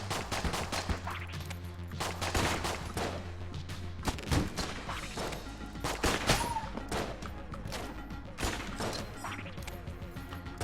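Rapid pistol shots and bursts of enemy fire in the bullet-hell game Enter the Gungeon, dense and continuous, with a player talking over the action.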